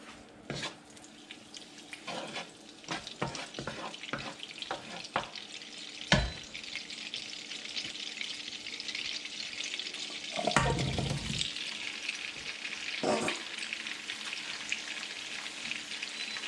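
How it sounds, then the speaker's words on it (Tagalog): Carrots and potatoes frying in a little oil and butter for beef kaldereta, a steady close sizzle with occasional stirring clatters and a brief louder burst midway, no talk. "ipiprito muna natin yung ating mga carrots at saka patatas. Lagay tayo ng konting mantika."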